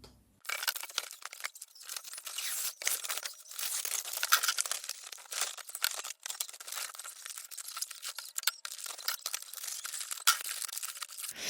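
Christmas gifts being wrapped in paper, with a steady run of crinkling, tearing and rustling paper sounds close up, with no talk.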